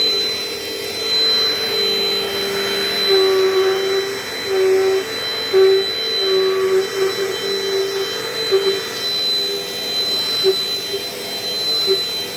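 A Dirt Devil Dynamite Plus vacuum cleaner runs close by with a steady, loud motor whine and airy suction roar that shifts slightly in pitch as it is pushed, alone without talk.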